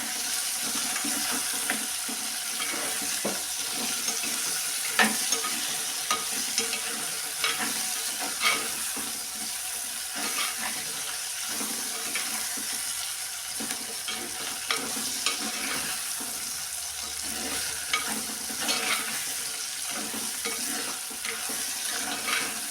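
Brinjal pieces sauté in a pan with a continuous close sizzle. Frequent stirring scrapes and clinks break through it, with no talking.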